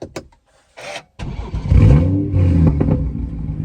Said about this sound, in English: here's another thing that never gets old, the startup on this car